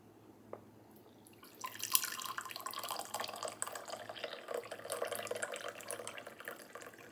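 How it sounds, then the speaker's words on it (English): Hot water drains off rehydrated freeze-dried noodles in a steady, soft trickling splash, starting after a quiet moment and running continuously, close and fairly faint. "So what we're going to do now is drain that hot water off."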